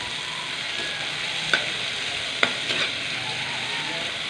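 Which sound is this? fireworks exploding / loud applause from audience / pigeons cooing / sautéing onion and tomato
sautéing onion and tomato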